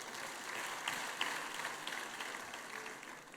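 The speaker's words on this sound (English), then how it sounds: "Please, let's give them a round of applause as well." Steady applause from a crowd, continuous and somewhat distant, holding an even level throughout.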